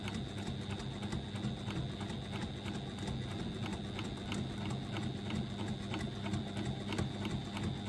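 A sewing machine top stitches a bottom panel an eighth of an inch from the fold, running in an even, rapid mechanical clatter close by for the whole stretch, with no talk.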